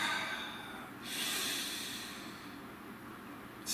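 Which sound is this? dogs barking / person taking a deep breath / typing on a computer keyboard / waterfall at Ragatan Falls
person taking a deep breath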